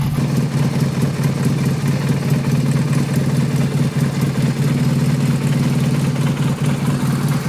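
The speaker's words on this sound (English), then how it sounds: "Only the right cylinder is firing right now." A motorcycle-type engine idles unevenly with only the right cylinder firing, its air/fuel mixture being tuned; a steady, loud, close rumble with a lumpy, missing rhythm throughout.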